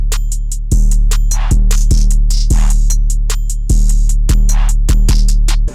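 A punchy hip hop drum beat loops steadily, with booming bass kicks, crisp snare hits and ticking hi-hats, loud and close with no voices.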